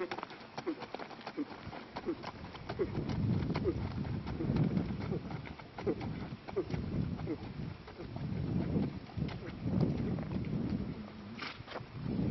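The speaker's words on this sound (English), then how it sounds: "And be able to remember to canter on the right lead." A Missouri Foxtrotter stallion canters on soft ground, its hooves making a steady rhythmic thudding that is moderately close, while a voice talks over it.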